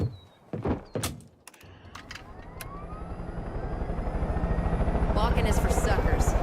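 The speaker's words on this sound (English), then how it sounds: "I do love this chopper." A helicopter in the video game Far Cry 5 spins up, its rotor thump rising from a faint chop to a loud, steady pulsing drone after a few door-like thunks, with a voice speaking at the start.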